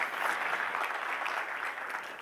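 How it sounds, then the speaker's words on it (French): A church audience applauds a woman after her part in a sermon on forgiveness: a steady, dense wash of many hands clapping at moderate distance, holding evenly for the whole stretch and easing slightly at the end. "On peut l'applaudir, hein?"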